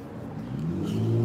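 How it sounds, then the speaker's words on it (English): A car engine revs up as it passes on a street, a steady mid-low drone that swells in loudness over about a second, close by with no talk. "Bro, these cars around here just sound like balls."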